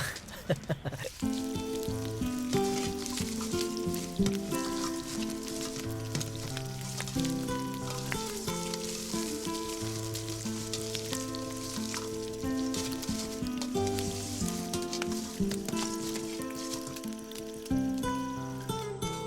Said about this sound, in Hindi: कॉलीफ्लावर है, मैं उसे ही फ्राई कर रहा हूँ।